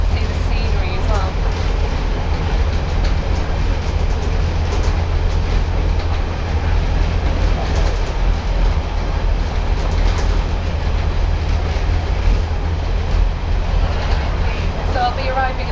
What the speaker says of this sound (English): we're now on a very noisy train and rocking around quite a lot